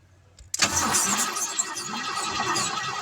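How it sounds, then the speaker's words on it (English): A 262 small block Chevy V8 with a 2-barrel carburetor in a Crewcab Nova, cranked on the starter terminal. It catches abruptly after a brief quiet moment, then settles into a loud, steady idle close by. "So let's see if she'll crank"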